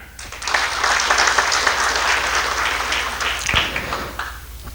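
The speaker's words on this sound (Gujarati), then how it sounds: "એના માટે તાળીઓ" An audience at a motivational talk bursts into loud applause that builds quickly. The dense clapping holds for about four seconds, then thins out and fades.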